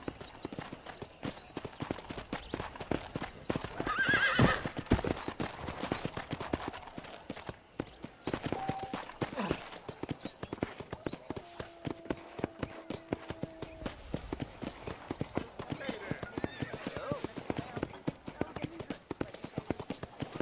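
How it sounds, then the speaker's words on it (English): Steady rhythmic clip-clop of horse hooves trotting around a ranch in Red Dead Redemption, close and continuous, with occasional voices talking over them. "let's see if you can still ride a horse."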